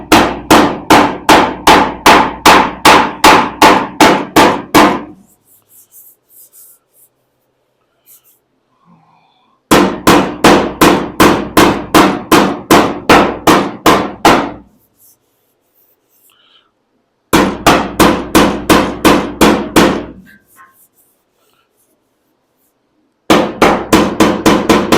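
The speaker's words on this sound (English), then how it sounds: "let's keep tapping. I'm gonna pick a little bit smaller faced hammer here" A small-faced hammer taps dents out of aluminum on a 1970 Dodge Challenger, striking in rapid, evenly spaced bursts of about ten blows each, with short quiet pauses between runs.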